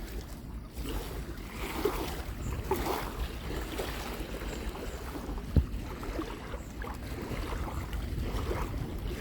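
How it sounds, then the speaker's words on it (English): Soft waves lapping against the shore near Sundsvall, Sweden, amid low wind rumble, with a single sharp knock partway through. "You can hear the sound of the waves hitting the shoreline here."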